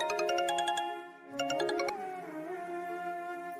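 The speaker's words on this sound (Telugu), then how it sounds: "రామయ్య గారు, ఒకసారి మైథిలికి ఫోన్ చేయండి." A phone rings during a call in a TV serial scene, with a melodic electronic ringtone pattern that repeats, breaks off, resumes briefly and then gives way to sustained tonal music.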